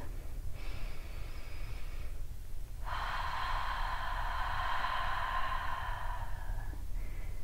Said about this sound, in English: Let's just take a few really beautiful deep breaths.